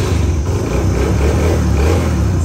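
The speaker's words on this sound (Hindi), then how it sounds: "अभी बाइक चलाओ, मैंने आवाज़ सुननी है" A motorcycle engine runs loud and close, revving with a deep, rumbling throb that holds steady for a couple of seconds.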